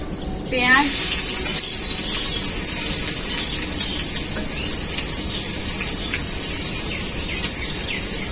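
Bay leaf dropped into hot mustard oil in a kadai, a brief crackle on entry followed by a steady, close sizzling hiss that continues evenly to the end.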